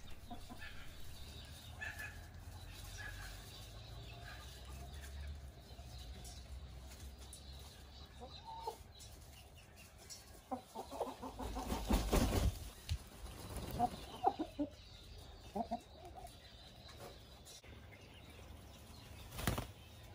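Muscovy ducks in a flock with a newly introduced drake give soft, scattered calls, with a burst of wing flapping and scuffling partway through, fairly faint against a low background hum.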